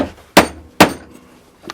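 A mallet strikes a wooden frame dovetail joint: two sharp, loud knocks close together, then a fainter tap after a short pause.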